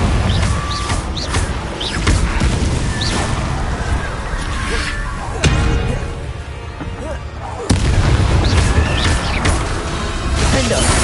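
Confringo blast spell explosions in Hogwarts Legacy, loud booming blasts and crackling bursts repeating over dense battle noise, with a voice shouting the spell name.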